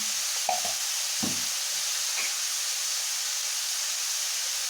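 Vegetables fry with turmeric, salt, a little sugar and pepper in a pan for a veg roll filling, a constant close sizzle broken by a few spatula knocks and scrapes early on.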